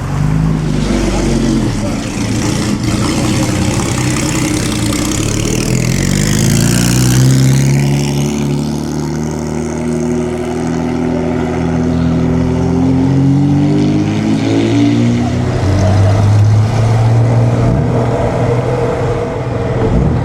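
A little classic Fiat Zagato drives past during the Mille Miglia road race, its engine note rising and falling over steady loud running, with other motors and background voices mixed in.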